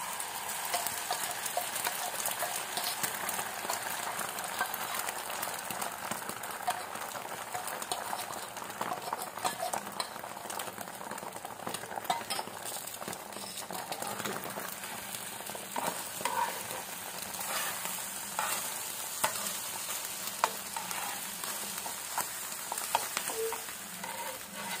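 An egg frying in heated oil in a pan with onion and chilli, a soft, continuous crackling sizzle heard close and fairly faint, with occasional light stirring clicks.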